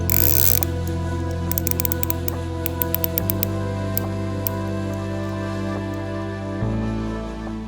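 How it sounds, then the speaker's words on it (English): Rotating bezel on a Spinnaker diver's watch giving a run of small, crisp clicks in quick succession, close and fairly faint over a steady background hum that shifts tone twice. "the bezel has a super solid click to it"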